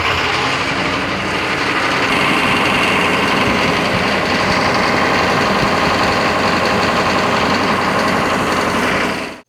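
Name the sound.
truck engine running at high idle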